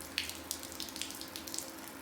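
Water trickles and drips from a leaking coolant reservoir hose in the engine bay of a GMC/Chevy S10-family truck, a soft steady splashing with small irregular drip ticks, close and faint, with no talk.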